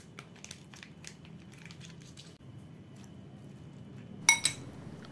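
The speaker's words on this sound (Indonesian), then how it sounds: "diaduk sampai rata" Egg sandwich filling with roasted sesame dressing being mixed in a bowl: quiet, soft squishing with light scraping, then a couple of sharp spoon clinks near the end, close and fairly faint.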